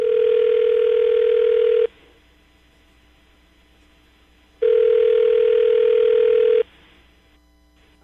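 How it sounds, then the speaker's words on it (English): A telephone rings out while a number is being called, giving two long, steady tones separated by a few seconds of quiet line, clear and alone. "I'm going to dial the phone number right now"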